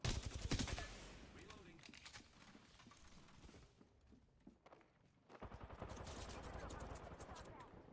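Bursts of rapid automatic gunfire in the battle royale game Apex Legends, crackling from several distances, some near and loud, others faint, with a player talking over it.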